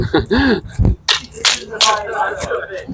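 Sharp wooden clicks and knocks come from a cracked bamboo practice sword during a Florentine two-weapon fighting drill, a few brief hits spaced irregularly and close, mixed with voices talking.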